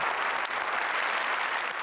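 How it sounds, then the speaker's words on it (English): A crowd bursts into sustained applause and yelling, a dense steady wash of clapping at moderate distance with no pauses. "the crowd moved into spontaneous eruption of applause and yelling"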